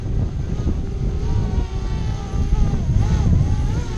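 A DJI Spark drone's propellers whir in a steady, fairly loud drone as it comes down to land outdoors, the buzzing tone shifting slightly near the end.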